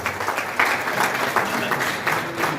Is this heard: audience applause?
yes